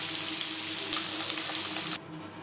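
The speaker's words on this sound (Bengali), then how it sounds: "পরের মাছ একইভাবে ভেজে নেব" Fish frying in oil in a pan, a steady close hiss and crackle of sizzling for about two seconds before it drops away abruptly to quieter sound.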